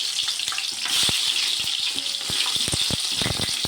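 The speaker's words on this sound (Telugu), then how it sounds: "ఉల్లిగడ్డలు అలాగే పచ్చిమిర్చి వేసుకుంటున్నానండి." Onions and green chillies sizzle and crackle in hot oil for bagara rice, a steady bright hiss dotted with sharp pops and spatters, close and with no voices.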